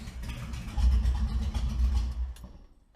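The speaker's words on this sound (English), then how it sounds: "Now it's idling, running like it should." A 1973 Ford Mustang engine idles with a low, uneven rumble that surges briefly, then fades out toward the end.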